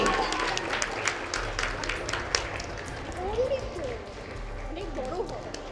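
A crowd applauds at a school science fair as a prize winner is announced, scattered clapping running beneath a voice and background chatter.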